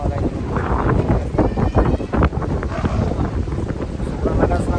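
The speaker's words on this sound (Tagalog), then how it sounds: "Sobrang lakas ng hangin dito sa part o nakita yung talak" Strong sea wind buffets the microphone with loud, continuous rumbling gusts, while a person talks through it.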